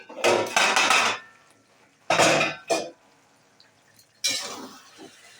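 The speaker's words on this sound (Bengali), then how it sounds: "এবার আমি ঢাকনা দিয়ে দিই।" While lote fish jhuri jhal cooks, a metal lid is set onto the cooking pot in three separate clattering bursts, close and fairly loud, with brief rattles and quiet pauses between them.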